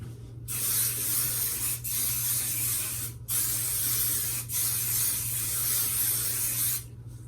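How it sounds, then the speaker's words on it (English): Hairspray from an aerosol can sprayed all over the hair with the head tipped over, in long continuous hissing bursts broken by short pauses, loud and close with no talking. "I'm gonna tip my head over and I'm just gonna spray in every direction."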